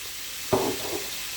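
Mixed herbs with oregano and peppers hit a hot pan with a sudden sharp sizzle that flares briefly and then settles into a softer hiss.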